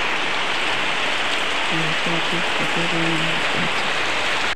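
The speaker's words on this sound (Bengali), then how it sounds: "বৃষ্টিটা কমছেই না" Steady, loud rain pours down without a break, with a faint tonal hum briefly audible beneath the wash of falling water.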